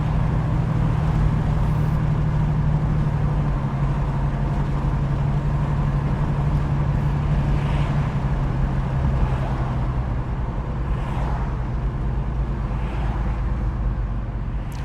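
A 1967 Ford Mustang Convertible with power disc brakes cruises through a town centre, giving a steady, continuous low engine and road rumble that stays fairly loud and even throughout, with no one talking.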